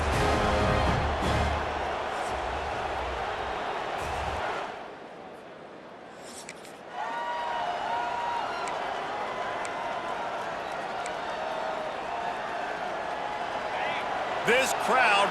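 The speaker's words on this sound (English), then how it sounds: "This crowd bringing an ear-splitting welcome to their visitors" A roaring stadium crowd in the EA Sports College Football 26 video game, a Penn State versus Michigan State rivalry matchup, cheers in a loud, steady wash that briefly dips in the middle before swelling again, with commentators talking over it.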